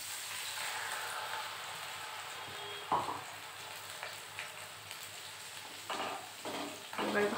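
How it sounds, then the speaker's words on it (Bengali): A ground spice paste of ginger and chili with turmeric, cumin and coriander powder and salt fries in oil, sizzling steadily while being stirred, with a few louder scraping bursts. "এবার ভালো করে মশলাটাকে কষিয়ে নেব।"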